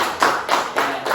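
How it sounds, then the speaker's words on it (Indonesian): Children in a classroom clapping their hands, heard as four bursts of brisk, close clapping in an even rhythm, with no voices. "Tepuk tangan dulu untuk kita semua."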